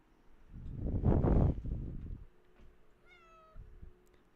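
A house cat meows indoors, a loud drawn-out call followed by a shorter, higher meow, with low room noise around it.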